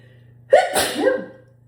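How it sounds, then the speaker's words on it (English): A single sharp sneeze bursts out near the microphone after a quick inhaled gasp, then trails off into quiet breath. "Hang on, I think I have to sneeze."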